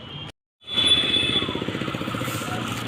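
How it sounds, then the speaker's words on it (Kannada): A motorcycle's engine runs steadily nearby as the bike is parked, a loud, rough putter with a fast pulsing beat that starts abruptly after a brief silence. "ಪಾರ್ಕ್ ಮಾಡ್ತಾವಳೆ ಬೈಕ್ನ."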